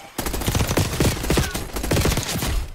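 Rapid, dense automatic gunfire from a Call of Duty Warzone match, loud and nearly continuous bursts packed together across the whole stretch, with no talking over it.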